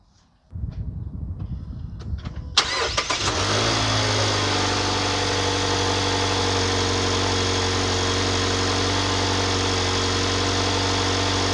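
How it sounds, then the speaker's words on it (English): A 2024 Mazda CX-50 AWD with the 2.5 engine starts after some faint clicks and then idles steadily, a loud, close hum that holds constant for the rest of the clip. "So we are going to start the engine now."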